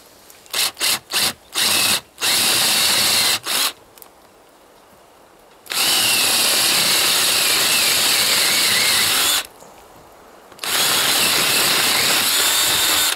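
A power drill bores a hole for a pin through a metal solar panel rack arm in loud bursts of high whining, first several short stabs, then two long sustained runs separated by a pause.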